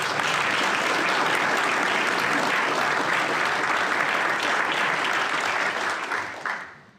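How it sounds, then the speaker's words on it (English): Dense, sustained audience applause at a retirement ceremony for an Air Force brigadier general, steady and loud throughout before tapering off near the end. "let's just give him a round of applause"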